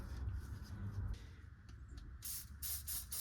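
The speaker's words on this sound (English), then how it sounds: "Lubricant on that thing." Lubricant sprays from a spray can in short hissing bursts, three or four quick sprays near the end, up close during car engine work on a Celica project, over faint background noise.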